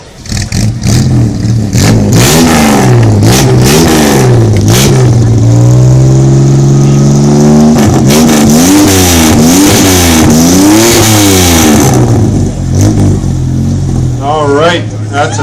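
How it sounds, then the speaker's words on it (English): At a car show in Richmond, BC, a Chevy Fleetline's 250 straight-six with a split manifold revs loudly and up close in repeated swells and drops, then settles into a throaty idle. "Chevy Fleetline with 250 straight 6"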